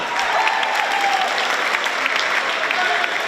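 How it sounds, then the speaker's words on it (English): Dense, sustained applause from a large crowd at a school pep rally fills the space evenly, a continuous roar of many hands clapping together. "Give them a round of applause for that"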